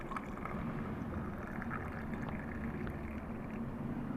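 Kashmiri pink tea pours into a cup in a steady, unbroken stream, with a close, continuous liquid rush that lasts throughout.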